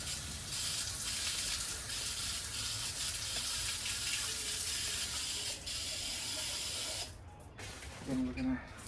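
Water from a tap fills a Pacvac Glide 300 vacuum part with a steady broadband rushing hiss for about seven seconds, then cuts off, leaving brief splashes and faint handling.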